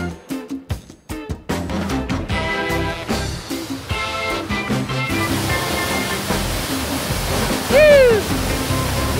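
A waterfall pours with a steady, dense rushing roar that rises out of a few seconds of music at the start, with a brief high whistle-like chirp near the end.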